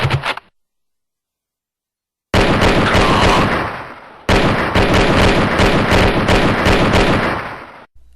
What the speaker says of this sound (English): Everything about this sound effects makes you feel like you're really there, from the gunfire